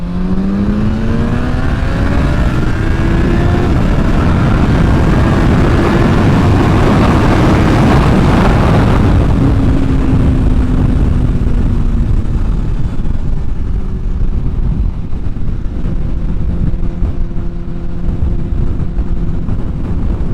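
A 2023 Yamaha MT-10 motorcycle with a Moore Mafia ECU flash accelerates hard through the gears without a quick shifter, its loud, close engine note climbing in rising sweeps and dropping at each shift.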